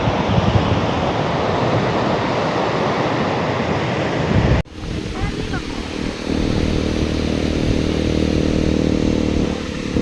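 Surf at Chirala Odarevu beach rolls in as a steady, loud roar mixed with heavy wind buffeting on the microphone, with a brief cut just before the midpoint.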